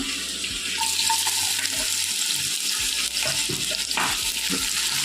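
Finely chopped onion frying in oil for a bitter gourd fry, a steady close hissing sizzle with running-water-like texture and occasional stirring clicks throughout.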